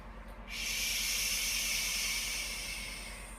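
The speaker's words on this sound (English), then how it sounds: "in through the nose, out through the mouth," A long, steady breathy hiss of air pushed out through narrowed lips, starting abruptly and fading slightly over about three seconds, close and quiet.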